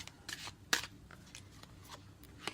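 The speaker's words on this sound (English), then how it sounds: "I shuffle and I meditate constantly. I like to get them nice and mixed up" A deck of tarot cards is shuffled by hand in quick, crisp riffling bursts, close and fairly quiet, with no talking.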